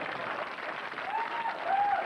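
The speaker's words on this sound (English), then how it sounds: "That lady in white started the applause." A 1988 comedy-show crowd gives a brief, steady round of applause, a soft, even patter of clapping with a faint voice rising over it.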